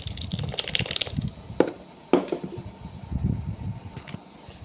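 Buttermilk poured over pierced dried vegetables for Tamil mor vathal, a soft liquid pour with light splashing and trickling over several seconds, close and fairly quiet, with no talking.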